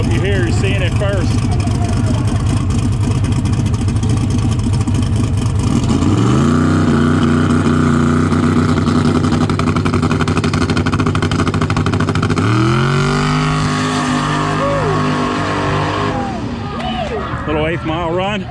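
Big-block turbocharged Mullet drag car with a Steve Morris engine launching on an eighth-mile run: a loud rumble, then two sharp rising accelerations through the gears, fading slightly at the end, with a voice heard over the noise.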